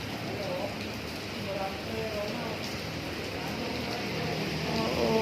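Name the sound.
heavy rain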